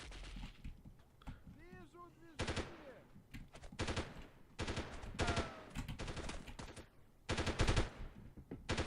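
Bursts of sniper and automatic gunfire sound in the 1998 Delta Force video game, sharp repeated volleys of shots spread across the clip with short gaps between them, alongside someone talking.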